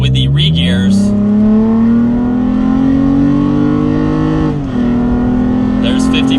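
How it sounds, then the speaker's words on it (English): Toyota Tacoma pickup with regeared axles on a top speed run: the engine drone climbs steadily in pitch, dips briefly at a gear change, then resumes a high steady whine, loud and close from inside the cab. "now it's time for the top speed run in the Tacoma with the regears"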